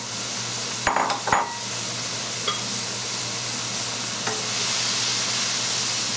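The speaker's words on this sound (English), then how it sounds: "So now we put all the chopped up onion in." Chopped onion tipped into a hot pan sizzles steadily as it is stirred with two wooden spatulas, with a couple of clattering scrapes early on and a soft continuous frying hiss throughout, no talking.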